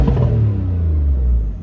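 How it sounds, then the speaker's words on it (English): A Porsche 911 (992) with an M Engineering tune revs in neutral at standstill, a loud, close engine roar that holds steady and then fades slightly, with no talking. "Let's see if we can get it to rev up."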